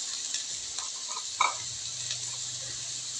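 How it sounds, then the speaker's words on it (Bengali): Potato chips deep frying in oil, a steady, even bubbling hiss close by with a faint low hum beneath and a few small pops, one briefly louder. "এখানে যে আলু ভাজা করে নিচ্ছি তোজোর জন্য, একটু কড়া করে বলে ভাজা খাবে আজকে, চিপস ভাজা"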